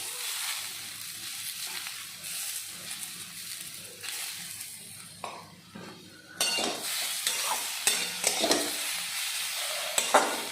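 A spoon stirs sizzling food in a frying pan after a squeeze of lemon juice, with steady close frying hiss and scraping strokes that briefly quieten midway before resuming louder.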